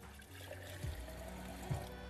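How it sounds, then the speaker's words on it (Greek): Tap water runs steadily into a cooking pot being filled for leeks, a continuous close trickle with no talk over it. "βάζουμε την κατσαρόλα, παίρνουμε νεράκι"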